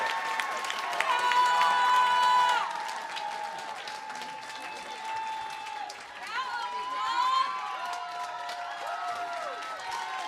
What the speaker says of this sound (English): And you can hear that crowd going crazy for them.